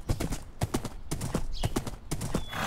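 Horse hooves clip-clop in Minecraft, a quick run of evenly spaced thuds repeating about eight times, close and fairly loud, with no talking over them.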